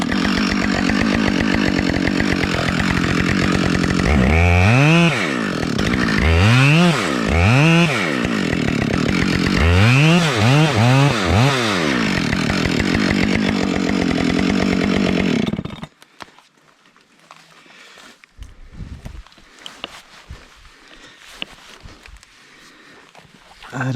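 A chainsaw cuts into the hinge of a side-leaning tree, roaring loud and close in repeated revving bursts for about fifteen seconds, then stops, leaving quiet outdoor rustling and someone speaking.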